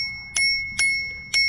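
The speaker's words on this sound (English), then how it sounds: "Look at this. It's got a little bell." Three short, bright dings from a small bicycle bell on a Rattan 750 LF e-bike, struck at even intervals, close and clear over a quiet background.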